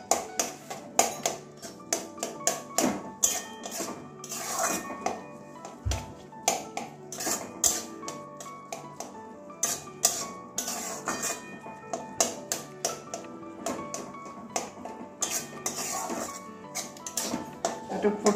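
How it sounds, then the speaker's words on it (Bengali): A spoon taps and clinks against a pan in quick irregular strikes while papaya chutney with lemon is mixed, with short pauses between bursts and occasional talk. "এই যে এবারে আবারও ভালো করে মিশিয়ে নেব।"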